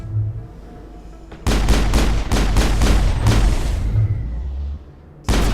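Rapid bursts of gunfire from a Mass Effect firefight, loud and close, begin after a quieter ambient stretch and repeat in dense, rhythmic volleys for several seconds before briefly dropping away, then resume abruptly at the end.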